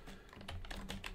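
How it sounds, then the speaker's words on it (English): Fast typing on a computer keyboard while code is entered in GameMaker Studio 2, a quick run of close, soft key clicks over about a second. "let me just type those in"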